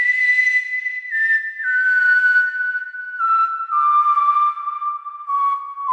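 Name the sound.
Psychopathic Whistle instrument in Omnisphere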